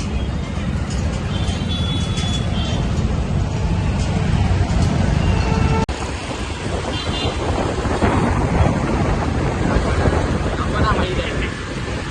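Heavy outdoor rain pours with low rumbling thunder, while wind buffets the microphone in a loud, constant roar throughout.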